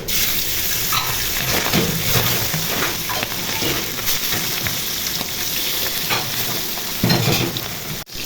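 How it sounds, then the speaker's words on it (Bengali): Pabda fish, coated in turmeric and salt, frying in hot oil, giving a continuous loud sizzle with bubbling crackle and occasional stirring or shifting noises throughout. "তেল গরম হয়ে গেছে, এখন মাছগুলো ভেজে নিব।"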